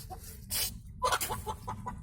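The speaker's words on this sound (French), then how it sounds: "c'est ma poule, elle m'emmerde." A chicken clucks in a few short, close bursts, with a low steady background rumble underneath.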